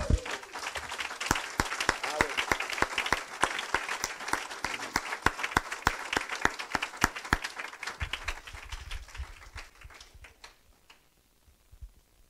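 A church congregation applauds in praise during a French-language sermon, a dense run of sharp claps that thins out and fades near the end.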